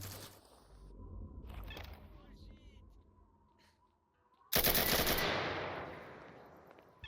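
Automatic rifle fire in the shooter game S.T.A.L.K.E.R.: Lost Alpha: after faint game ambience and a low voice, a loud sustained burst of rapid gunfire erupts and rings out, slowly tapering away.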